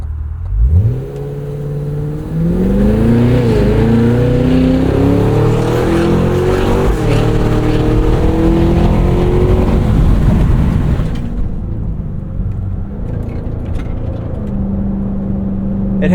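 A 2025 Cadillac Escalade V engine revs up hard under acceleration. The loud, close engine note climbs steadily in pitch for about ten seconds, then drops off to a quieter idle-like hum.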